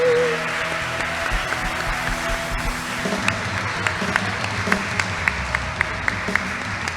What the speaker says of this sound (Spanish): Aleluya, dale fuerte ese aplauso a papá.